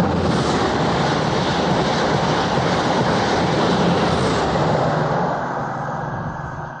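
An InterCity 125 train runs along the line on the King's Cross to Edinburgh route, giving a loud, continuous rushing roar with steady rumble that eases slightly near the end, with no talking.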